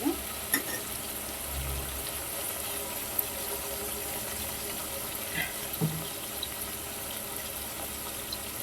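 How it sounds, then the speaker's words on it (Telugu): Chopped tomatoes frying in a pan for tomato upma, a steady, even sizzle with occasional light clinks of a spoon against the pan, fairly quiet and with no one talking. "టమాటో కూడా ఒక 2-3 మినిట్స్ కొంచెం మంచిగా మగ్గించుకున్న తర్వాత నెక్స్ట్ వాటర్ పోసేద్దాము."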